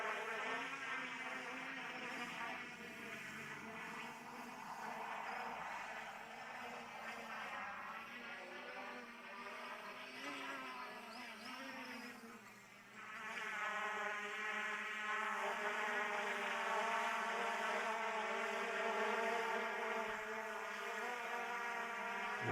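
A Hubsan H501SS quadcopter drone hovers in gusty wind, its high buzzing whine of small propellers steady and fairly distant, shifting pitch briefly midway before settling again.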